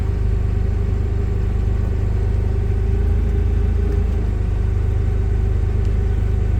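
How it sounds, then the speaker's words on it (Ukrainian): A Toyota 02-8FGF15 gas-powered forklift with automatic transmission pulls away after its brake is released, its engine giving a steady, loud, close low rumble throughout with no talk. "Пускаємо тормоз і навантажувач поїхав."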